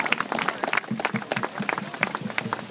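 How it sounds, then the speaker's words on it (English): Applause at a Torch of Life Relay organ donation event, hands clapping for about three seconds with the claps fairly distinct and somewhat sparse, fading and swelling in loose bursts. "give them a good round of applause"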